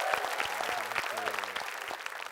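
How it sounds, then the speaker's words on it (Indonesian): Audience applause on a word-guessing game show, moderately loud clapping over rhythmic electronic game music with bright chime tones. "Tepuk tangan dulu."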